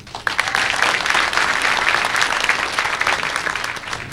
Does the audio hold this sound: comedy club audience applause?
yes